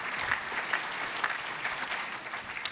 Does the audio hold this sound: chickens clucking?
no